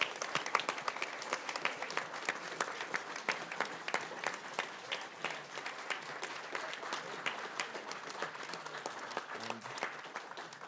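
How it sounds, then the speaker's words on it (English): Audience applause fills a charity speedrun marathon hall, steady dense clapping sustained throughout with crisp individual claps standing out, moderately loud and continuous with no talking. "Let's give all of them a round of applause"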